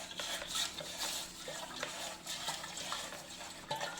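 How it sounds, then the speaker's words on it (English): A scrubber rubs hard scale inside an electric geyser tank, giving a close, continuous rasping scrub with wet sloshing and uneven strokes. "Now I'm going to use a scrubber because the scale formation is very hard inside,"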